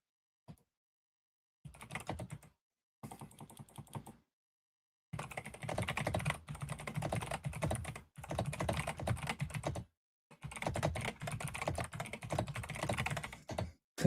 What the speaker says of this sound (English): You hear my typing? You hear my nerd keyboard?